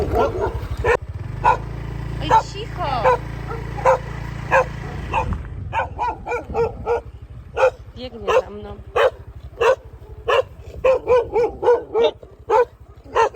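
Several dogs of a pack bark in loud, sharp bursts, at first under a deep engine drone, then a rapid irregular volley of yips and barks close by, with brief human speech among them.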